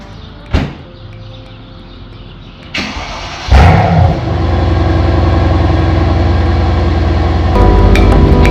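A Mercedes C63 pulls into a garage: a door thud and a short mechanical clatter come first, then the engine catches and settles into a loud, steady low rumble that swells slightly near the end.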